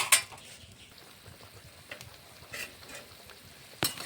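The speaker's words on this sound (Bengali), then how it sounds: "ঝোলটা ভালো করে ফুটে উঠেছে" A pot of Bengali fish curry (machher jhol) bubbles steadily, soft popping and simmering texture with a few sharper spits and a light clink near the end.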